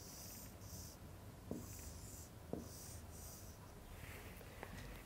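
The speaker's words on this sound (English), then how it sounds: "I am drawing a picture here." A pen draws a picture on paper, making faint, intermittent scratching strokes with a few soft taps, set against a quiet room hum with no talking.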